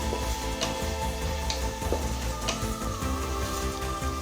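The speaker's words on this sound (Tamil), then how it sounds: "இப்போ எல்லா காயும் நல்லா வதக்கியாச்சுங்க." Mixed vegetables for vegetable pulao sizzle and crackle steadily in a hot pan, with occasional soft clicks of a utensil, close and continuous with no talking.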